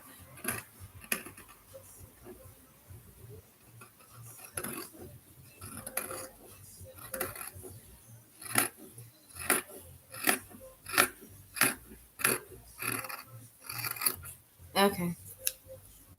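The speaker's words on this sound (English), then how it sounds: "I'm cutting real awkward." Scissors cut dress fabric for a homemade homecoming dress in a long run of crisp, closely spaced snips, some faint and some sharp, with a light clatter of handling around them.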